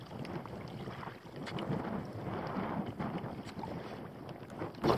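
Wind rushing steadily over a drifting kayak on open water, a continuous broad blustery roar with gusty swells and slight buffeting against the microphone, no talking.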